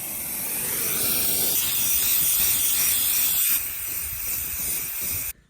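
Pesticide sprayer misting crops in a farm field, a loud continuous hissing spray close by that drops in level partway through and cuts off abruptly at the end, with no voices.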